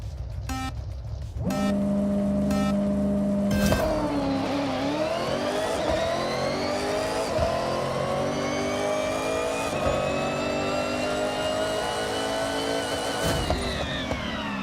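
A car launches from a standing start in the racing game Forza Horizon 6: countdown beeps, a held high rev, then a loud engine pulling hard through repeated rising gear sweeps, close and alone.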